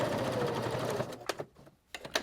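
A sewing machine runs a fast continuous stitch along a seam on a fabric magnetic wrist cuff, then stops abruptly, followed by a few short bursts and clicks as the work is repositioned for backstitching.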